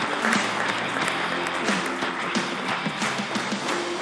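An Italian sports television studio audience applauds for the mothers, a steady burst of clapping with some overlapping voices in the background.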